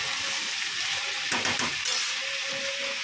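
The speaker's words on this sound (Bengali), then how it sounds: "এদিকে ভাতও ফুটছে" Rice boiling in a pot on a home kitchen stove, a steady broadband hissing bubble with a louder burst of churning near the middle and a faint tonal whine toward the end, no one talking.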